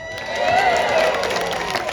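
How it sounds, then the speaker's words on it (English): An audience at a Gatorland alligator show cheers and shouts, a swelling roar of many voices with high excited yells that holds steady for a couple of seconds. "Crowd goes wild."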